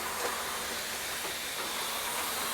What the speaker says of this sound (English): Biggest canner I've ever seen, for sure.